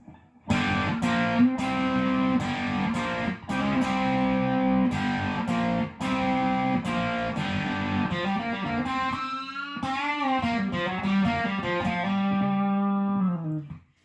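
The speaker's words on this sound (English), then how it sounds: "so you can hear what it sounds like with just a lot of distortion" Electric guitar played through a Box of Rock distortion pedal with heavy distortion, loud and sustained, with strummed chords and a few bends before ringing out and fading at the end.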